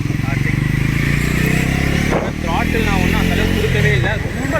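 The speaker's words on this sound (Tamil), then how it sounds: "வண்டியோட சவுண்ட் கேட்டிருப்பீங்கன்னு நினைக்கிறேன்" A Bajaj NS400 motorcycle engine running in sports riding mode in second gear, a loud steady drone with a brief dip and rise as the throttle changes, with someone talking over it.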